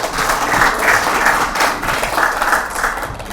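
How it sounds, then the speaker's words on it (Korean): A conference opening ceremony audience claps in steady, dense applause filling the hall, fairly loud and continuous for a few seconds. "큰 박수 부탁드리겠습니다"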